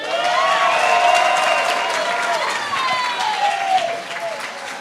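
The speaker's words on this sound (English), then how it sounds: "Give Billy a nice big round of applause up here." Wedding guests give a round of applause at a reception. Steady, dense clapping fills the room while a voice and some tonal sound carry over it.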